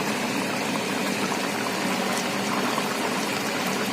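Hilsa fish curry broth, with potato, eggplant and kalonji tempering, simmers over a low gas flame, giving a steady, close bubbling hiss that runs unbroken throughout with no talk.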